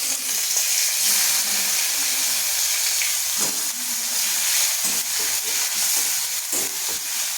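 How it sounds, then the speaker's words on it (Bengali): Chopped onion frying in hot oil in a pan, where fish was just fried and a chilli tempering added; a steady close sizzle and hiss with occasional light stirring knocks throughout. "আর এই যে পেঁয়াজ"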